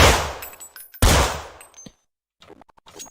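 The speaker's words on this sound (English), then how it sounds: "This is the Glock. You can change the the fire mode." Glock pistol fire in the futuristic video game Counter Strike NEO, two loud, close bursts of gunfire in quick succession, then a short pause and a few faint metallic clicks and clinks as the weapon is handled.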